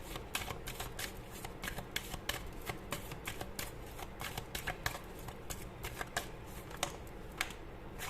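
Oracle cards being shuffled by hand for an angel reading, a steady run of crisp riffling flutters and soft slaps repeating close up, with no talking over them.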